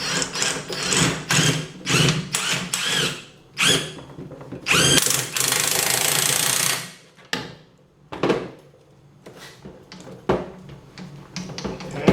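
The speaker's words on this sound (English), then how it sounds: "I'm going to compress this side a little bit more and get this off of here." A powered tool drives a spring compressor on a 1994 Toyota Corolla wagon rear strut spring, running in loud close bursts of whirring and rattling with short pauses between them, and no talk.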